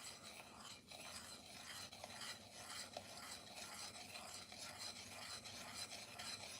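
A spoon scrapes and swirls steadily inside a cup of coffee, a continuous close rasping stir with faint clinks that runs unbroken with no talk.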